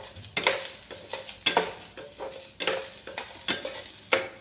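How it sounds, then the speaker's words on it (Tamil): Garlic and green chilies sautéed in a pan for a Tamil diet recipe, with repeated loud bursts of stirring and scraping over a steady close sizzle, no talking. "நல்லா வதங்கின அப்புறம் வெள்ளைப்பூடும் பச்சை மிளகாயும் ஆட் பண்ணிக்கலாம்."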